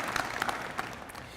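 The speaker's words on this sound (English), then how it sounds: "they deserve applause." A room full of people at the UA Fort Smith Lion Legacy event clapping for faculty and staff, a brief patter of applause at moderate distance.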